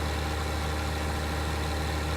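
Steady low idling rumble of a New Holland tractor engine in Farming Simulator 19, a constant mid-to-low drone with no variation, loud and continuous with no voices.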